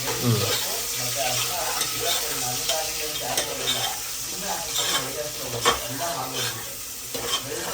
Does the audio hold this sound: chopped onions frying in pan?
yes